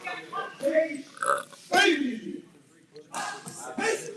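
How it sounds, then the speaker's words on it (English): Loud, close burps from a person, a few guttural eructations in a row among short vocal sounds. "This one burps a lot."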